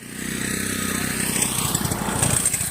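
A motorcycle engine runs in a school yard where people are learning to ride, giving a steady low, throbbing drone that holds at a moderate level throughout.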